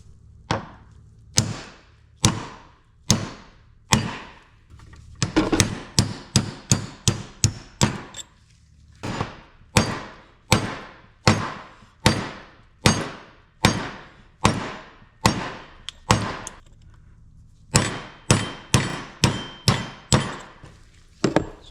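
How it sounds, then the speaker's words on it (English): Steel hammer blows driving hardened pins out of a John Deere 420/430 two-cylinder power steering flow divider clamped in a vise: a long series of loud, sharp metallic strikes, sometimes in rapid bursts, sometimes spaced, with short pauses between runs. "I'm going to go set this up in the vise, get a hammer, and pound these out"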